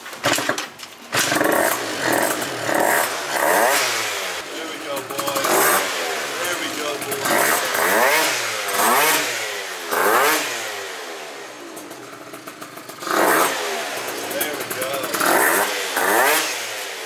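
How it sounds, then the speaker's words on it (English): A Phantom F12 scooter fitted with a Stage6 clutch and CVT tuning revs hard in repeated bursts, rising and falling close by, with voices talking over the engine. "now that sounds like it's grabbing the clutch now."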